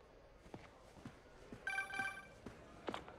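A phone rings in Marvel's Spider-Man, a few clear electronic trill bursts standing out over a quiet, busy game background with soft footstep-like taps.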